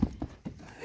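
Hooves of a horse being walked for inspection at a sale, a few distinct clip-clop steps spaced unevenly, close and clear, with no talking over them.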